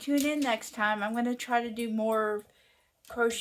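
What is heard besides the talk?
None of the usual background noises is heard.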